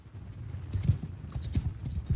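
Cavalry hooves from mounted horse archers in the video game Mount & Blade 2 Bannerlord, a steady rolling clatter of many hooves with heavier irregular thuds, moderately loud and close.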